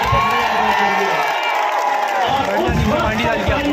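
A crowd at an AIMIM political rally in Aurangabad cheers and shouts, with voices whooping over a continuous roar of noise that stays loud throughout.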